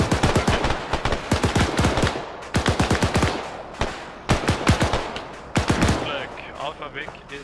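Machine gun fire from the video game ArmA 3: loud, rapid bursts of automatic shots in several volleys with short pauses, close and dominant.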